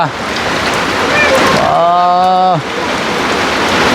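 Steady heavy rain pours down around a small rural house, a dense continuous hiss throughout, with a brief voice murmuring over it midway.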